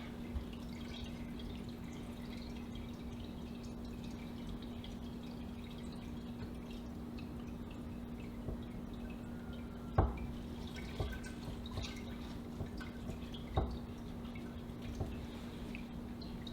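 Cheddar cheese curds draining in a colander, with faint steady trickling and occasional soft drips over a low constant hum, quiet and close, no talking.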